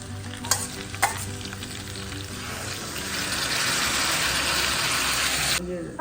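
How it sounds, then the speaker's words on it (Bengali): Chicken sizzles and is stirred in a pan for kosha curry, a steady close frying hiss with a few sharp scraping clanks early on, while people talk. "মোটামুটি আধ ঘন্টা ধরে এখন মাংসটা কষবে"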